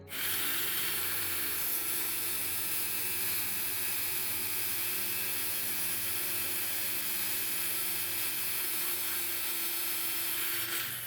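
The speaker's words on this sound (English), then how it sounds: "I'm gonna go ahead and take some sandpaper to it and see if we can get that perfect." Sandpaper rubs against a small lock pin in a steady, continuous scratchy hiss lasting throughout, close and fairly loud with no pauses.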